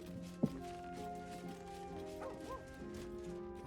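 Dog named Scratch in the video game Baldur's Gate 3 gives one short bark over a quiet, droning game soundtrack, followed by a few faint whimpering yips.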